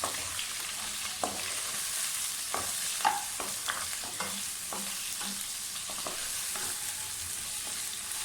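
Mutton sizzles and fries in a pan with a steady hiss, punctuated by occasional clicks and scrapes of stirring, close and continuous with no talking.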